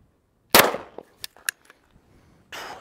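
An AK-47 fires one sharp, loud shot at a helmet outdoors at a downhill angle, followed by a few small clanks and rattles and then a softer rushing noise.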